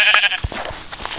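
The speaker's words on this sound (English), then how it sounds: "Oh, black sheep noise." Sheep in the Minecraft video game bleat in a short burst, a couple of close, clear bleats over soft game ambience.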